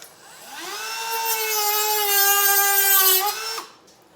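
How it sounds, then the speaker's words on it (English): A Dremel rotary tool cuts out a plastic lid for a wireless phone charger install in a BMW 335, a close, high whine that spins up, holds steady for a few seconds, then winds down. "I'm gonna Dremel that new lid out because my first lid wasn't big enough."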